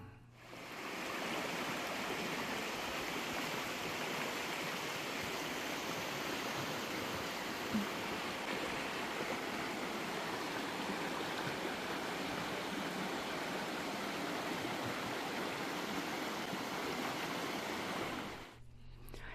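Mingus Creek in the Great Smoky Mountains rushes past in a steady, unbroken wash of flowing water, close and even in level from start to finish with no voices.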